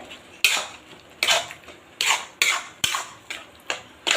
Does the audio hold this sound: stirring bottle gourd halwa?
yes